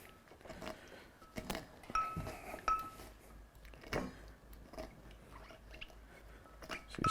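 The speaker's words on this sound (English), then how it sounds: "So just kind of mashing up the cucumber, giving yourself a little like cucumber infused lemon juice paste" Cucumber being muddled with lemon juice in a cocktail glass for a Hot Charlotte, giving soft irregular squishing and mashing thumps with a few light clinks, close up and fairly quiet.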